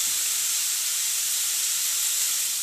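Onions sautéing with salt in a hot pan for a chicken curry, giving a steady, even sizzling hiss that stays at the same level throughout with no pauses.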